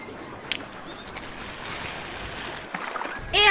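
Small river near a school flowing steadily as a soft, continuous wash of water noise, with a few faint brief clicks and a louder burst at the very end.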